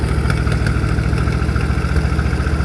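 A 1963 Ford Fairlane 500 V8 idles steadily up close after new plug wires and a cleaned carburetor, a loud, continuous low rumble with a slightly uneven, misfiring pulse and no voices.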